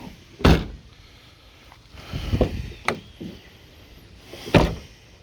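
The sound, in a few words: 1997 Dodge Ram truck door shutting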